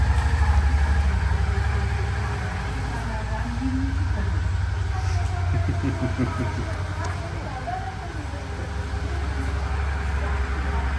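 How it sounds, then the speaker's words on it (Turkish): A Suzuki V-Strom 650 XT motorcycle engine idles with a low, steady rumble after heavy servicing, running continuously nearby with a slight rise in revs midway. "Test sürüşü için Alaaddin Usta motosikleti çıkartıyor"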